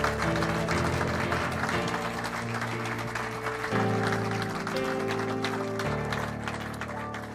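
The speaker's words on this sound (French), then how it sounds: "Acclamons le Seigneur" A church congregation applauds and claims the Lord, a steady wash of clapping over sustained music tones that continues from start to finish.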